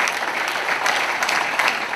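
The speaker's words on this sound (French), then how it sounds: "Il mérite les applaudissements." Audience at a New Year's address in Beaussais-sur-Mer applauds, a dense, even wash of many hands clapping at fairly close range, sustained without pause and with no talking.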